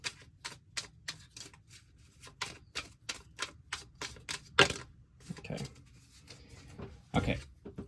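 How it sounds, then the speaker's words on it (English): Tarot cards are riffled and tapped in quick, irregular clicks and flutters, close and quiet, with a couple of louder shuffling bursts. "All right, I'm going to do 2 more shuffles here."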